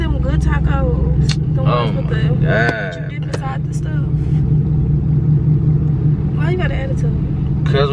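A loud car engine drones steadily in the background while people talk over it throughout.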